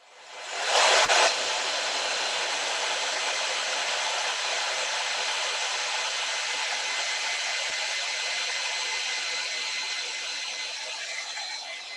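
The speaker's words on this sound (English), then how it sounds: "So I'm gonna hit this set with a hairdryer while everybody's adding their details." Hair dryer blowing on wet acrylic paint on canvas during a paint night class, switching on with a brief louder burst and then holding a steady, close whooshing roar throughout.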